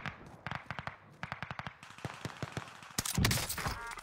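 AI enemy gunfire in a first-person shooter video game, rapid bursts of sharp shots in quick rhythmic volleys, moderately distant, building into a denser, louder barrage near the end.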